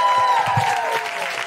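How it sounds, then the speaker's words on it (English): Live audience at the close of a comedy podcast show, bursting into sustained applause and cheering, a dense wash of clapping that holds steady throughout. "Big round of applause for Daz Parker."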